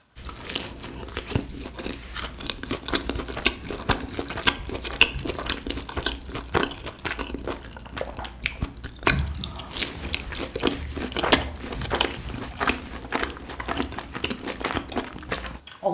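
Crunchy rosé cheese balls bitten and chewed up close, with repeated crisp crunches and wet chewing sounds filling the stretch steadily, plus a few faint clinks of utensils.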